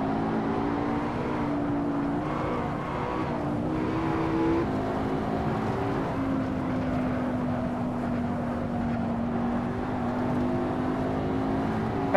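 Race cars, including a Lamborghini, Corvette, Maserati and an old Audi, drive the Nurburgring circuit, with steady engine drones rising and falling in pitch as they pass, loud and continuous without pause.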